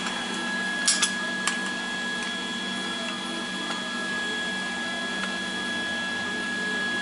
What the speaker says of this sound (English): I'll drill a hole right in there